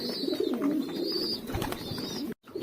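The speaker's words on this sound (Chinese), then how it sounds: "这些鸽子等着我喂呢" Pigeons coo softly and repeatedly at close range on a rooftop loft at dusk, a steady low warbling with faint higher chirps, ending in a brief silence.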